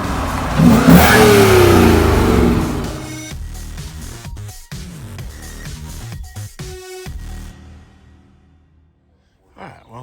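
The 5.0 Coyote V8 of a 2019 Ford F-150 with an MBRP aftermarket exhaust fires up and revs loudly with a deep, throaty note, then drops to a rumbling idle with a few blips before cutting off.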